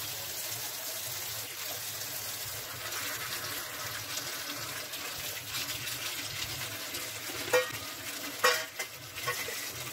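Tomatoes are washed in water for homemade tomato sauce, making a faint, continuous soft swishing and sloshing with a few slightly louder splashes near the end.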